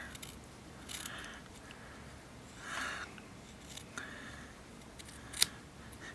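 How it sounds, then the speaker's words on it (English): Scissors snip through a piece of vape wicking cotton in a quiet room, giving a few soft, separate cuts spread over several seconds with near silence between them. "I'm going to take a piece of cotton, eyeball it and cut it right about"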